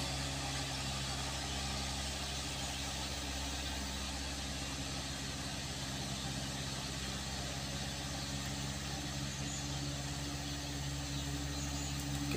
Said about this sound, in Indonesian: Nampak suara mesin begitu mengaum-ngaum.